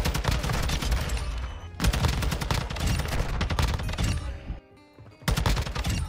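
Rapid bursts of TAQ-56 rifle fire in Call of Duty, loud and dense with brief pauses, including a short near-silent gap before firing resumes.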